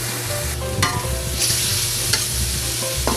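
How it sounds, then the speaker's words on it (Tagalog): Ox tripe, beef and cow skin sauté in a pan for Zambales balbacua stew, giving a steady, close, busy sizzle with scraping stir sounds throughout. "Sasangkutsa ko siya."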